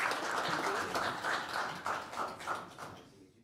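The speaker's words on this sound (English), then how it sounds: "let's get a round of applause" Audience at a town council meeting clapping in a brief, moderately quiet burst of applause that thins out and fades by the end.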